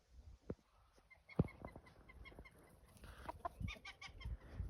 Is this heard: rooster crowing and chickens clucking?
yes